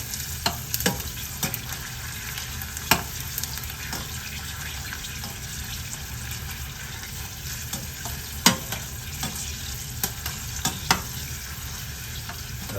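Pork cracklings (chicharon) fry in hot oil with a steady, dense sizzle, broken by sharp pops and spatters and the scrape of gentle stirring now and then. No one speaks.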